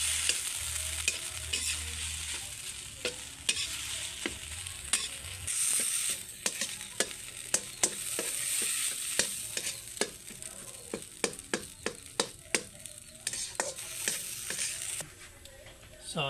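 Tuna filling with bread cooks in a pan, a steady sizzle under repeated sharp clicks and scrapes of a utensil stirring against the pan, alone without talk.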